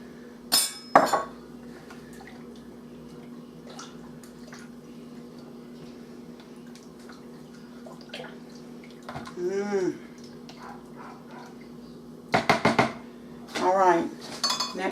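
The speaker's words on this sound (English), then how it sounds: "Then I'm going to pour the 2 cups of boiling water into it and stir it again." Boiling water is poured into a pot of seasoned soup for a casserole and stirred, with sharp utensil clinks against the pot and short sloshing bursts over a low steady hum.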